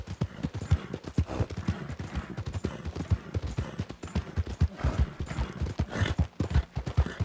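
Steady clip-clop of horse hooves at a brisk trotting rhythm, close and continuous, with no voices, from a horse ridden within town limits in the video game Red Dead Redemption 2.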